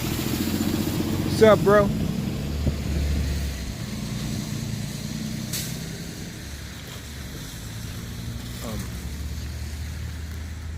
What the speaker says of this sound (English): Let's let this loud truck go by.